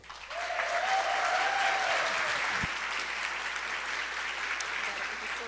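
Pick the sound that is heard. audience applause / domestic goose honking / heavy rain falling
audience applause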